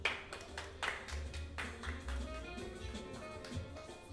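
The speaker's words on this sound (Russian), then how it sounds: "под ваши аплодисменты снова на этой сцене" A small audience claps in a loose, scattered patter, fairly quiet and somewhat distant, welcoming a performer back onto a stage at a poetry-reading event, with a low hum underneath.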